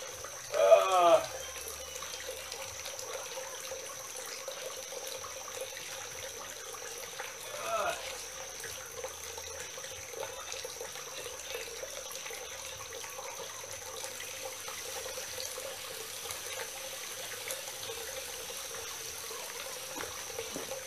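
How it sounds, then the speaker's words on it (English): Water from a small garden pond waterfall runs in a steady, soft trickle that continues throughout, with a couple of brief louder splashes or handling sounds near the start and again partway through. "The sound of running water is very good."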